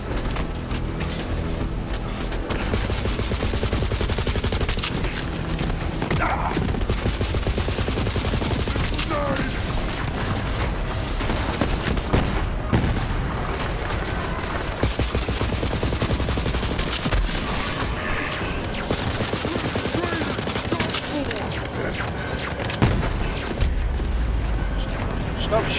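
Dense, continuous video-game gunfire in Psycho Krieg and the Fantastic Fustercluck, machine-gun bursts and mechanical clatter layered over game music for the full stretch, loud and unbroken.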